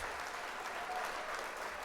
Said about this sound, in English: Let's hear the applause.